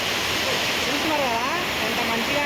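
A waterfall along the hillside path to Jwala Narasimha temple at Ahobilam roars as a dense, unbroken rush of water, loud and constant, with a voice faintly audible beneath it.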